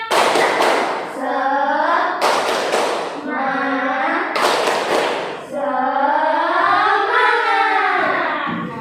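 A group chants in rhythm, punctuated by sharp bursts of clapping in quick patterns, loud and close, with a drawn-out call at the end.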